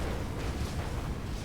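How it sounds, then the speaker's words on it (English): Explosions roll through a real-time strategy video game battle, a dense, continuous low rumble of overlapping blasts and booms with no clear gaps and no voices. "Man, there's just been non-stop explosions."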